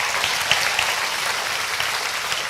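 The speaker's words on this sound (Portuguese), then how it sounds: "Você pode dar um aplauso ao Senhor pela sua palavra?" A church congregation claps steadily throughout, a dense, even patter of many hands at moderate loudness with no voices on top.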